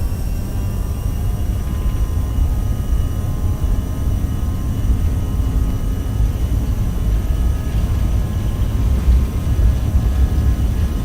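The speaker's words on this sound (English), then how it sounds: "just going to do a roll and takeoff. Takeoff power is set." Sustained roar of a CRJ 700's jet engines at takeoff power in X-Plane 11, a steady loud rumble holding level throughout with no talk.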